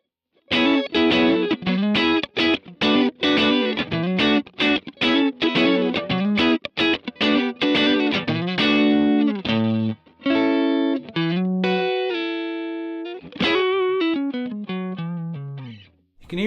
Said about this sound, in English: I'm playing this Sir Classic S with the Thornbucker in the bridge.